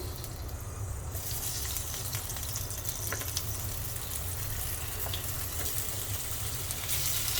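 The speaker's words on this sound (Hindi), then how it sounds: "तेल हमारा गर्म हो चुका है। अब इसमें टमाटर डाल देंगे।" Green tomatoes dropped into hot oil in a pan give a steady, loud broadband sizzle that runs unbroken and alone from start to finish, brightening after the first second.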